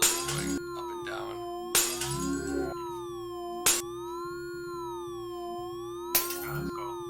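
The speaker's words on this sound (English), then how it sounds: "so you'll hear it, the glass in a little bit going up and down" A glass sample plays back repeatedly with its playback rate swept by a sine wave, so the clinking, shattering tones glide up and down in pitch between sharp bursts.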